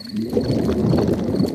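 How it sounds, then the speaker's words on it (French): A cartoon father pig's stomach rumbles in a low, continuous gurgling growl that lasts a second or two, loud and close, with no talking over it. "Les gargouillements de mon estomac sont les plus beaux bruits de la nature."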